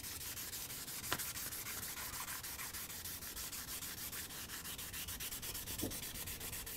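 A card scraper is rubbed back and forth on wet-or-dry sandpaper wetted with rubbing alcohol, giving a continuous faint, gritty scraping with a couple of brief clicks.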